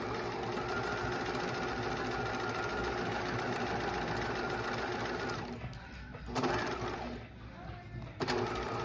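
A sewing machine stitches a flat felled seam in a steady, rapid mechanical whir that stops near the end, giving way to a few clicks and handling sounds, with a person speaking quietly over it.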